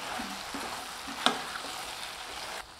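Steady sizzling of raw banana frying in a pan for chilli, with one sharp clink of a utensil partway through.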